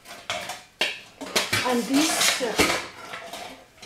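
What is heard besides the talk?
pots and pans clattering in a kitchen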